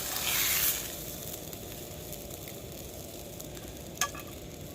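Steady, dense sizzle of steak frying on a camping stove outdoors on a wet night, a louder burst at the start and a couple of small clicks later, continuous with no talking.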